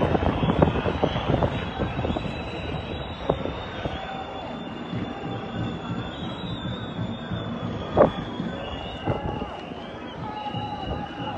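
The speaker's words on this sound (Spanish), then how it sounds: "a esta hora un helicóptero también de la policía custodiando este punto de la ciudad" A police helicopter hovers over Bogotá's Plaza de Bolívar during street demonstrations, a steady loud rotor-and-engine drone that fills the whole stretch along with crowd and traffic noise.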